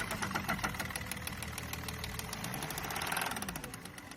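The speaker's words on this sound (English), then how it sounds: "this customer came in because they think their engine sounds too much like a truck" A car engine with a rough, heavy, truck-like note runs steadily at idle, with a dense rhythmic knocking pulse that swells slightly toward the end.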